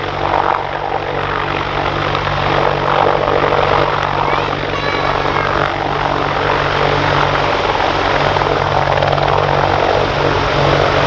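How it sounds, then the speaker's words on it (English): A British Army attack helicopter at an airshow roars loudly and steadily overhead, its rotor and engine noise filling the air without a break. "Ladies and gentlemen, the British Army are back to the attack helicopter"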